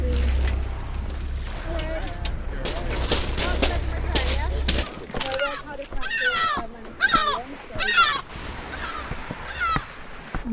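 Nesting gulls calling loudly near a boat landing on Flat Holm Island, shrill squawks rising in repeated bursts after a low rumble of engine fades, with people talking nearby.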